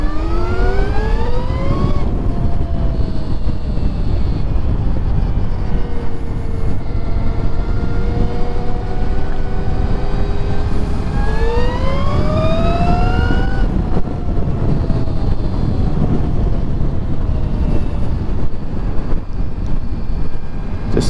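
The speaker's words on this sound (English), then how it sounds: "I just heard that white car trying to pass me." A car passes from behind a Tesla-swapped Honda Grom on a test ride, its rising and falling tones sweeping by several times over steady, loud road and wind noise.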